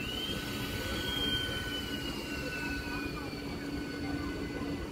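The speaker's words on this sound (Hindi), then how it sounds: "Down Bandel Howrah local train Hooghly railway station की तरफ जा रहा है।" A Bandel–Howrah local electric train rolls toward Hooghly railway station with a steady, continuous rumble of wheels on track and a faint high whine, close and unchanging throughout.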